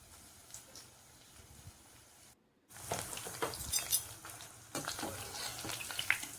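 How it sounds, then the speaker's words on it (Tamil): Onion bondas, a Tamil tea-shop snack, deep frying in hot oil make a bubbling sizzle that briefly drops out, then returns louder with crackles and occasional clinks of turning. "பொன்னிறமாக வர வரைக்கும் திருப்பி போட்டு நல்லா வறுத்து எடுத்துருங்க."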